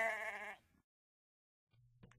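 A sheep bleats once up close in a quiet snowy setting, a clear wavering cry lasting about half a second, followed by near silence and a few faint low rustles.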